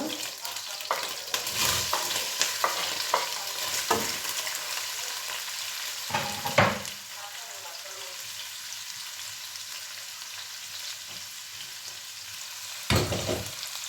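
Chopped onion frying in a pan, a soft continuous sizzle broken by a few sharper stirring knocks and scrapes, fairly quiet and free of speech.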